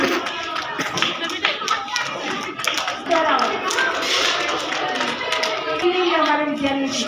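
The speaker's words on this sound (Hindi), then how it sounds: "जोरदार तालियां।" Applause at a Republic Day celebration at a school in Lohagal, Ajmer, a continuous crowd of hand claps lasting several seconds, with voices and a musical tone mixed in.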